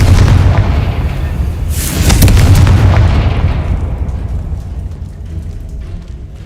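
A booming Confringo explosive spell blast from the Hogwarts Legacy video game erupts loud and close, with a sharp burst near the middle over a rumbling roar that slowly fades.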